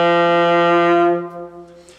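A saxophone sounds its low bottom D, a single sustained reedy tone that holds steady and loud for over a second, then fades off.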